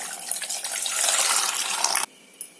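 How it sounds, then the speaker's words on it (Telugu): Tap water gushes steadily into a bowl of eggs for boiling, a continuous splashing pour for about two seconds that then cuts off, leaving a brief small splash. "వాటర్ అయితే పోసేసుకుందాం."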